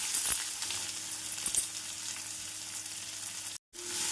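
Steady oil sizzle and frying crackle of chopped onions added to oil with fennel seeds, close and continuous, with a few light clinks near the start and a brief cut to silence near the end.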